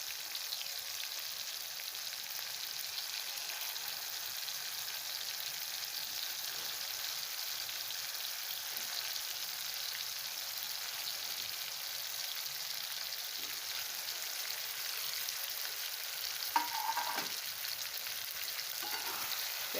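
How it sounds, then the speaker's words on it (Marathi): Chopped tomato and capsicum sizzle and fry steadily in hot oil in a pan, a continuous crackling hiss with occasional stirring clinks, close and alone. "आणि आता टाकायची आहे आपल्याला शिमला मिरची."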